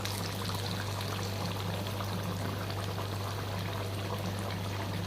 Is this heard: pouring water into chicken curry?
yes